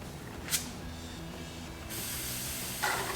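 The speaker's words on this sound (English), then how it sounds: "slowly turn the top until you start to hear the pressure escaping and go very slow" A brake power bleeder on a 1993 Nissan NX2000 is opened slowly, letting out a steady, close hiss of escaping pressure that rises in level partway through, with a couple of brief sharper bursts.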